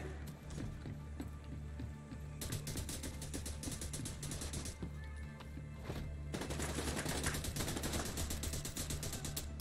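Rapid gunfire in a video game crackles in dense, uneven bursts over a steady low drone, thinning briefly in the middle before resuming thick and loud, with no voices.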